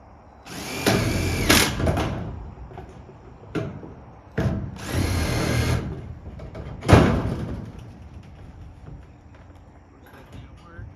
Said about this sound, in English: I'm going to hold it up, and I'm going to be drilling on an angle.